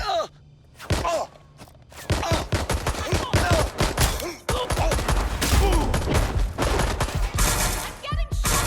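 Rapid gunfire bursts in a dramatic scene, loud repeated shots and thuds packed densely across most of the stretch, with shouted voices and scuffling mixed in among the volleys.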